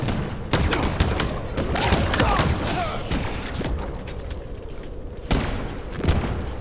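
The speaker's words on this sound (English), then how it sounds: "Taking fire." Rapid gunfire and thumping impacts from a video game firefight, loud and nearly continuous with sharp bursts throughout.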